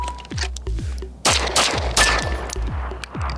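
A pistol fired on a flat range after a draw from a holster: a fast series of sharp, loud shots in quick succession, with echoing cracks close to the mic.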